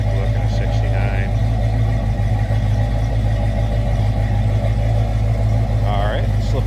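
A 1969 Ford Mustang Fastback with a 351 V8 running, heard from behind the car as a steady, deep idle drone with a low, even rumble throughout.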